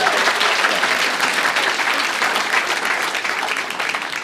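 Steady, dense applause from an audience of Wisconsin lawmakers fills the room, close and continuous at an even level throughout without a break.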